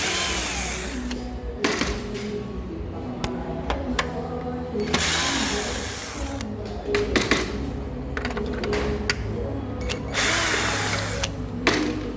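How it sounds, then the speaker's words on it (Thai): Screws being removed from the rear cover of a Fuji Xerox IV C3375 colour printer, giving repeated close mechanical clicks, ratcheting and short whirring bursts from a screwdriver or drill across the whole stretch. "ก็ถอดน็อตตัวนี้นะครับด้านบน"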